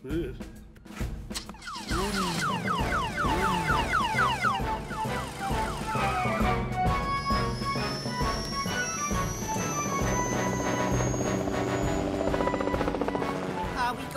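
A helicopter drones steadily throughout in a children's cartoon, mixed with busy cartoon music and rising siren-like tones, with voices talking over it.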